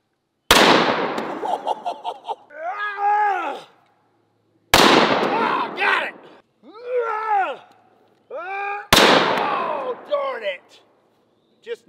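A 10 gauge coach gun fired at cabbages, three loud booming blasts spaced several seconds apart, each decaying quickly, with a voice and reactions after each shot.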